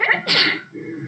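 A single sharp sneeze bursts out, loud and close, followed by a quieter breathy tail with no talking.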